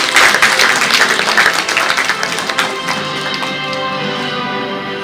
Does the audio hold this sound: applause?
yes